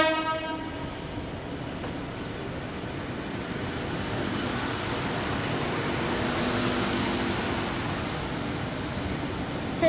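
A train departs platform 2 at Strathfield station, a steady broadband rumble of wheels and carriages holding loud and continuous throughout, with a faint horn-like tone at the start.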